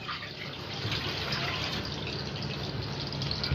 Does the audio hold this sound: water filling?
yes